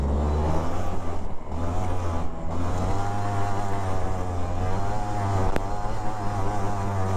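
A modified competition car drives with its engine droning loudly close by, its exhaust giving off flames, and a sharp crack or pop sounds briefly partway through.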